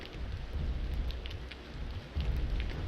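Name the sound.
lightning spell thunder in video game Aidyn Chronicles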